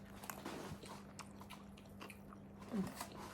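Someone takes a single bite of food and chews softly, with faint wet squishes and a light crunch close to the microphone and a low hum behind, in a quiet moment without speech.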